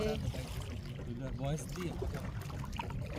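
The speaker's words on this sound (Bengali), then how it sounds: "আমরা কায়াকিং করছি।" Kayak paddle strokes splashing and trickling through calm water in Halong Bay, Vietnam, heard close by under steady voices talking over the water.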